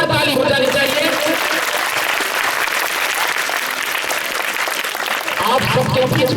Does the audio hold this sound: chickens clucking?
no